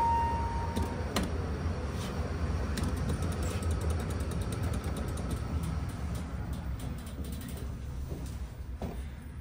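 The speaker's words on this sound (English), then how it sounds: "this is elevator number 6 for the airport" A ThyssenKrupp Oildraulic Signa4 hydraulic elevator at Providence's PVD airport runs with a steady low mechanical hum, soft creaks and occasional clicks. It sounds fairly faint and continuous, with no voices.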